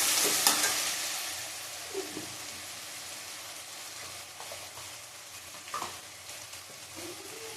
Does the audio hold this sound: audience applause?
no